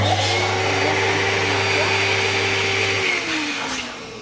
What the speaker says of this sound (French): Donc on gonfle avec l'embout spécial pour gros ballon.